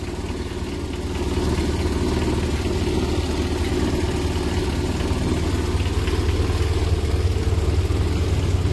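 A Suzuki Carry 1000cc engine idles steadily just after starting, with a low, even rumble up close that grows slightly louder after the first second and holds with no speech.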